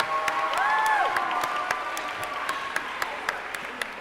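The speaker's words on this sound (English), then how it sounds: "Before she slips out, can we give a round of applause for our accompanist, Miss Tammy Marks?" An audience at a school choir concert applauds the accompanist with a steady wash of clapping that holds for several seconds and then thins out, with scattered individual claps near the end.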